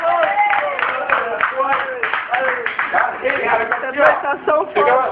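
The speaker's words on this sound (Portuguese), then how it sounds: "uma salva de palmas aqui" A small group backstage at the Floripa Service Jam breaks into a round of applause, quick close claps mixed with lively voices talking and calling out over them for several seconds.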